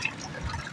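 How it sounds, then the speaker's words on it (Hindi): Water pours steadily into a cooking pot during wedding meal preparation, a soft continuous splashing and trickling close by with no talk. "ये पानी जो है पतीले में शामिल हो रहा है ताकि जी ये ठंडी हो जाए"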